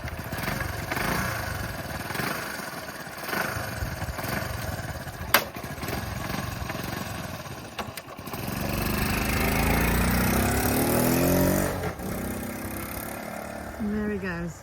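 Honda C90 motorcycle engine turning over and catching, then settling into a steady, buzzy small-engine idle nearby, with people talking over parts of it.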